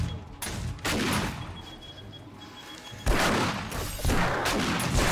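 A shotgun turret in the survival video game 7 Days to Die fires a few loud, booming blasts, with louder crashing bursts in the second half, no talking heard.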